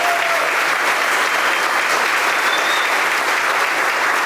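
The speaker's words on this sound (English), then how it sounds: "Can we give him a round of applause?" Audience applause for a town mayor at a chamber of commerce annual meeting and community awards, dense continuous clapping from a large room, steady and even from start to finish.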